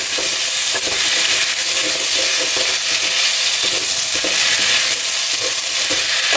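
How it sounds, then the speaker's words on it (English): Okra drops into a pot of seafood soup with a steady, loud sizzle and the scrape of stirring running throughout, no voices over it. "You put in the okra."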